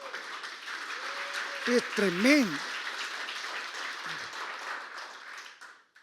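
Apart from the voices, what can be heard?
applause in church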